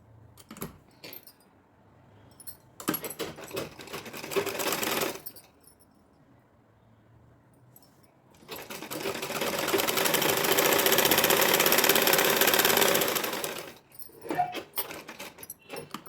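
A sewing machine runs in two bursts as it stitches a seam on an Anarkali gown made from an old saree: a short run, a pause, then a longer, louder steady whirr before it stops. Small handling clicks fill the gaps.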